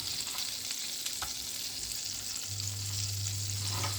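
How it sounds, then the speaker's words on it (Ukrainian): Crushed garlic cloves sizzling in hot oil mixed with butter in a frying pan, a steady close crackle and hiss with faint occasional stirring, no voices. "Потім відправляємо на розігріту пательню з олії"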